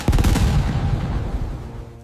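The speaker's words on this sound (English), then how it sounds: "We need cover fire now!" Rapid bursts of war-scene gunfire, a dense fusillade of loud overlapping shots and booms, rolling continuously at close range and tapering slightly toward the end.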